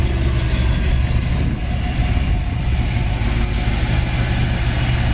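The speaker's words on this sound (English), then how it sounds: "we have a great running 283 engine, 4-barrel carburetor, power steering, power brakes, chrome alternator." A 1964 Chevrolet Impala Super Sport with a 283 V8 and four-barrel carburetor runs at a steady idle, giving a continuous, close, dense rumble with no talk over it.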